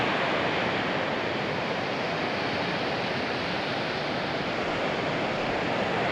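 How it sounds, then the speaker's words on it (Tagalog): Rough surf washes steadily onto the beach at Baler in the eastern Philippines at sunrise, a loud unbroken roar of waves with no voices. "maalon pa rin naman siya pero hindi siya tulad kahapon"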